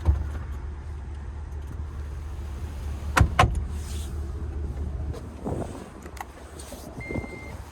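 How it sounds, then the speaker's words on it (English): Third-row seats power folding in a GMC Yukon XL Denali, a low steady motor hum running under a few mechanical clunks and clicks as the seats move, close by and moderate in level. "we can power fold the third row as well"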